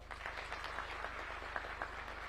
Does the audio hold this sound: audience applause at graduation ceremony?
yes